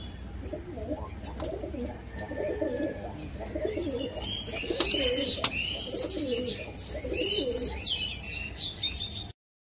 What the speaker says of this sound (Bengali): এটাও খুব ভালো কোয়ালিটির পায়রা